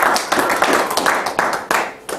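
Applause from a class audience closing a fire leadership curriculum session on practical prescribed fire, dense irregular clapping, fairly close and steady for a couple of seconds.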